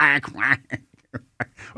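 A voice imitates a duck, giving a few short nasal quacks in quick succession, close and fairly loud, with gaps of silence between them.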